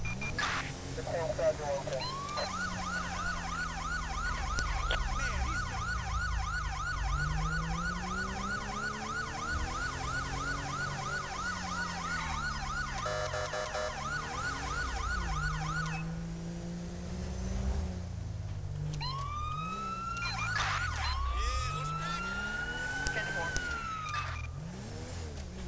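A wailing police siren on a 2006 Hyundai NF Sonata patrol car in GTA V, sweeping up and down continuously for most of the stretch, then switching to rising yelps near the end, with engine revving and a voice talking underneath.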